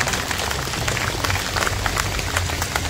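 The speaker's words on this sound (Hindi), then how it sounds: "हाँ, ताली तो जोर से बजाए, मुझ तक आवाज तो आए।" An audience claps loudly at a spiritual talk, a dense, continuous patter of many hands close by, with no voices over it.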